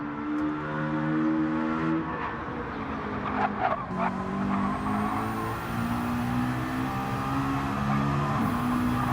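A McLaren race car in Gran Turismo drives under load, its engine note rising and falling through gear changes with a brief tire squeal, heard steady and fairly close.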